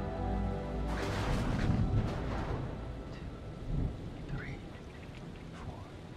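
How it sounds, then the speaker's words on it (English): A thunderstorm rolls through the video game Man of Medan, with steady rain hissing over a deep, rumbling thunder roll that swells early and then fades, plus a short later rumble. "Storm's 8 miles away."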